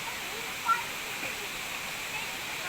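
A waterfall where people come to play in the water gives a steady, broad rushing hiss of falling water. It holds at a moderate level throughout, with faint distant voices blended in.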